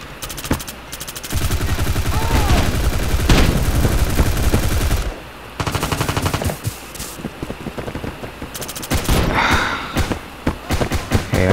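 Automatic weapons firing in the Bullet Force video game, long loud bursts of rapid shots separated by brief pauses, then shorter clipped bursts toward the end.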